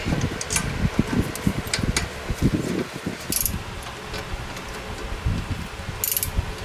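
Caliper bolts being threaded and ratcheted into the brakes of a 2008 Hyundai Santa Fe, with quick clicking ratchet strokes and metallic clinks up close in a workshop.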